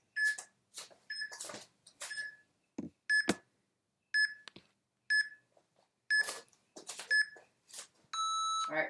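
A workout interval timer gives a steady series of sharp, identical electronic beeps roughly once a second, loud and close, with brief clicks and taps between and a longer multi-tone chime at the end.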